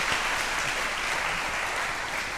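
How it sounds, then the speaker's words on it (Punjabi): Dense, sustained applause from a studio audience on a chat show fills the whole stretch evenly, loud and continuous with no talk over it. "ਤਾਲੀਆਂ ਲਈ ਵੀ ਕਹਿਣਾ ਪੈਂਦਾ।"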